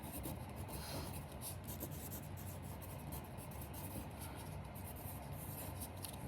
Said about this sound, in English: on this solid white piece of paper, I'm going to write my name and class code